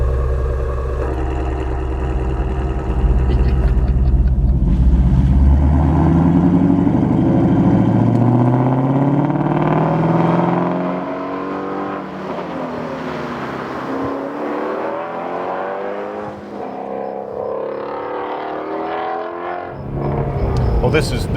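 A Ford Mustang engine, Shelby GT350 or Boss 302, revs in sport mode: a loud, close rumble that climbs and falls through several throttle blips, with someone talking over it throughout.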